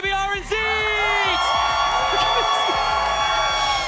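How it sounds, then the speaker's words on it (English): A lively crowd at a Fortnite esports tournament cheers and whoops with loud shouts and rising voices, bright and sustained throughout. "Can I get a huge round of applause"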